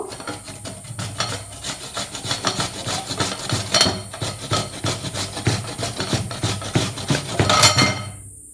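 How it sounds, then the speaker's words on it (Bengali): Raw potato scraped over the large holes of a grater in a kitchen, a quick run of close, rhythmic rasping strokes with brief pauses and a couple of sharper knocks. "এই যে আমি একটি গ্রেটার নিয়েছি গ্রেটারের যে বড় বড় ছিদ্রযুক্ত অংশ এটা দিয়েই আমি গ্রেট করে নেব"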